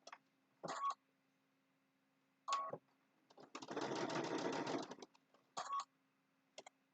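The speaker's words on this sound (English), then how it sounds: "So I'm going to have fabric on under my needle, my locking stitch." A sewing machine runs a locking stitch through fabric in short separate bursts, then one longer steady run of stitching, close and clear against a quiet room.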